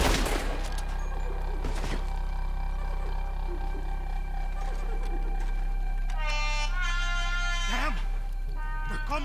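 Gunfire crackles in a Red Dead Redemption 2 shootout, several sharp shots early on and near the end, over a constant game soundtrack hum with brief tonal music-like passages; a voice speaks over parts of it.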